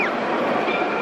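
A train rolls past close by in a steady, continuous rumble with a high metallic whine sliding through the first moments, loud and unbroken throughout.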